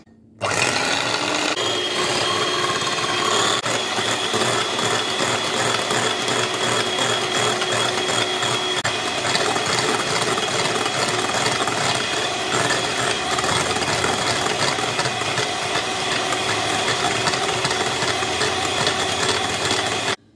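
An electric beater whips cream in a bowl set over ice, making a loud, continuous mechanical whirring and rattling hum that starts abruptly and runs steadily close to the listener, with no talking.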